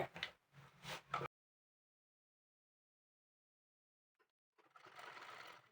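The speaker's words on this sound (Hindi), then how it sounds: "झालर को पलटते जाइए और सिलाई करते जाइए।" Quiet sewing machine runs stitching a frill onto a blouse sleeve: one short burst, a silent pause, then a longer, steadier run of stitching.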